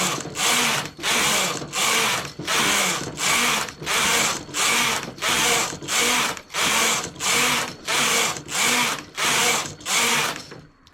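A knitting machine carriage sweeps back and forth knitting rows of an adult sock, each pass a loud, even whirring swish, about fifteen passes in a steady rhythm with short gaps between them.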